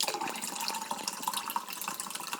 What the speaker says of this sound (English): you open up this grapefruit drink and you pour it into this cup